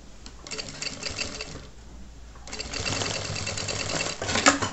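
Sewing machine stitching folded bias binding on a child's backpack, two close bursts of rapid whirring stitches separated by a short pause, with faint rustling.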